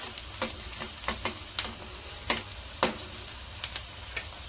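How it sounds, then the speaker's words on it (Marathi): Onion softening in hot oil in a pan for a cabbage sabzi, a quiet bed of frying hiss broken by scattered sharp crackles and pops at an irregular rhythm. "गरम झालाय आपला कांदा बघा तेलात"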